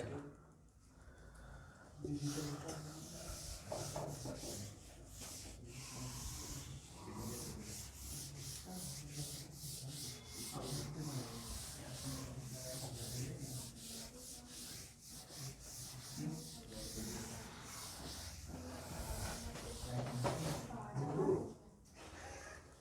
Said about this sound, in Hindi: तो मैं इस चीज़ को रब कर दूं, रब कर दिया जयलाल